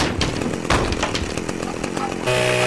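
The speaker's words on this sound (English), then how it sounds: "you're going to go straight up to him and chainsaw him" Chainsaw attack in the video game Manhunt, a loud close snarling saw engine revving and grinding continuously, with shifting roar and a steady machine tone at the end.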